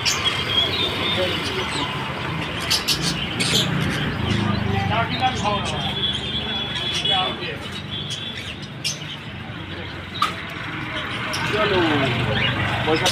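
Several budgerigars chirp and tweet in short bursts amid a busy, noisy bird shop, with people talking throughout and passing traffic in the background.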